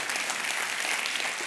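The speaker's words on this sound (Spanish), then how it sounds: "Le damos una ofrenda de palmas todos juntos" Church congregation applauding together, a dense steady wash of clapping hands from many people, loud and continuous throughout.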